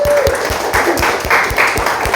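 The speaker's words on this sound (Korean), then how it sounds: "박수 한번 치죠." Church congregation applauding during a Korean-language worship service, a loud, close burst of many hands clapping with a few stronger rhythmic claps standing out and a faint tone ringing underneath.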